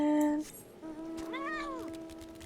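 A cat gives a couple of distinct meows, one short and then a longer rising-falling one, up close over quiet background noise.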